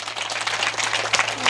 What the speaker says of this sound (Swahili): pigieni hao vijana makofi